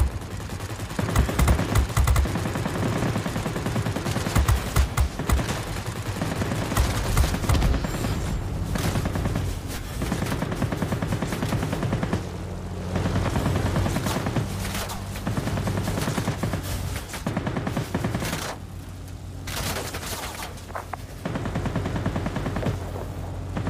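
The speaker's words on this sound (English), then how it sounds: "Oh, they're shooting from above." Warplane gunfire in the video game World of Warplanes: sustained, loud bursts of machine-gun fire and booming shots rattle almost continuously with brief lulls throughout.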